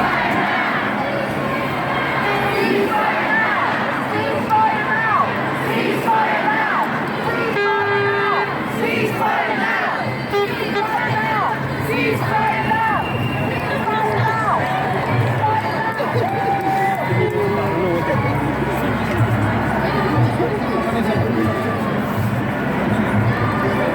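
A large crowd of protesters fills Trafalgar Square, London, with loud continuous shouting, chanting and overlapping voices milling close by, and scattered cries rising over the steady din.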